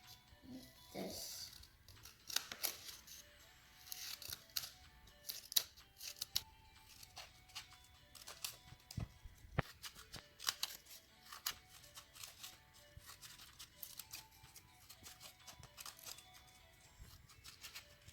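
Scissors snip through folded craft paper during a Groundhog Day kids' craft, a quiet run of short crisp cuts and rustling paper close by, with no talking.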